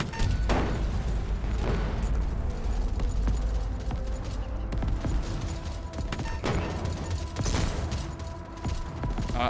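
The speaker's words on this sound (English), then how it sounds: "There's gonna be a lot of explosion noises." Explosions and gunfire in the video game Echo Point Nova make a dense, continuous roar of booms, thuds and crashes, loud throughout with no pauses.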